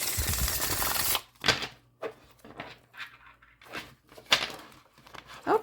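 Tarot deck being shuffled by hand: a dense riffle of papery card flutter for about a second, then a series of short, crisp card slaps and shuffles at an irregular rhythm, close and fairly quiet.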